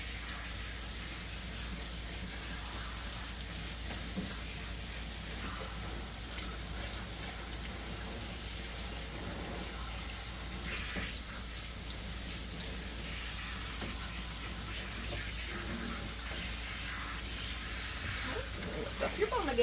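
Water sprays and rinses over an Australian Shepherd puppy during grooming, a steady close hiss of running water that continues throughout, with faint sounds of handling underneath.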